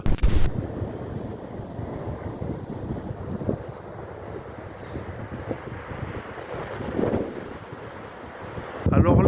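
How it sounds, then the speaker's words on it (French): Strong wind buffets the microphone on a black sand beach in Iceland, a steady loud roar with gusts, and surf may be mixed in beneath it. "Je ne sais pas si vous allez entendre, il y a beaucoup de vent"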